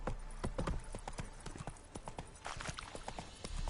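Roach, the horse in The Witcher 3, trots along with steady, close clip-clop hoofbeats and no talk over them.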